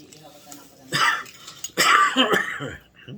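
Two harsh coughs burst out close by, separated by a short pause, with quiet background murmur before them.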